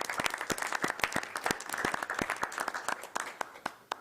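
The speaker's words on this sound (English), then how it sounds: "publicly I would like to give him a round of applause" A small audience at a county area plan commission meeting claps in tribute, the individual hand claps distinct and closely spaced, steady for a few seconds before trailing into a few last claps.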